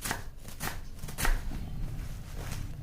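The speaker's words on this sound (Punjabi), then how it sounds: "ਹੁਣ ਅਸੀਂ ਸਾਗ ਕੱਟ ਰਹੇ ਹਾਂ।" Mustard greens (saag) being chopped with a knife on a board, a series of crisp, irregular cutting knocks at close range, one stroke landing harder than the rest, with no voice heard.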